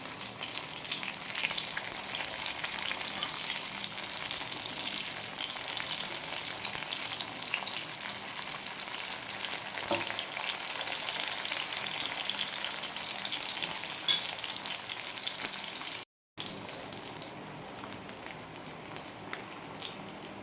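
Fish pieces sizzle steadily in a hot pan for a Perambalur-style fish fry, a dense, even crackle with a brief break near the end and no voices.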